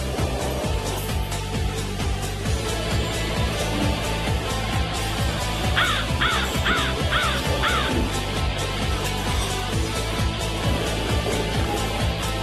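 Crows caw loudly in a short run of harsh calls near the middle, with steady outdoor background noise around a breakfast spread they are raiding.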